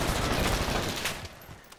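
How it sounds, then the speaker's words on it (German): Rapid gunfire from a Modern Warfare multiplayer match, with dense, continuous bursts of automatic fire filling the first second and a quarter, then thinning into scattered, fainter shots. "Ich hab auch kurz geschossen."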